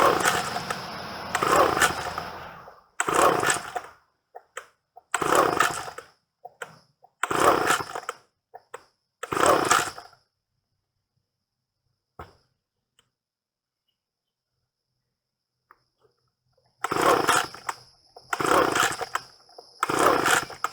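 An Echo PB-250 two-stroke leaf blower, choke fully on and throttle held wide open, is pulled over repeatedly in loud bursts of engine noise, goes silent for several seconds, then fires again in further loud bursts.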